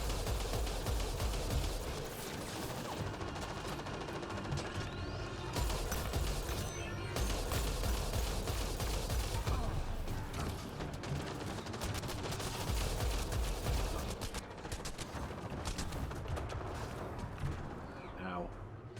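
Rapid turret gunfire in the Mass Effect Andromeda video game crackles as a dense, continuous barrage, loud throughout and layered over game sound effects, with a voice speaking over the fire.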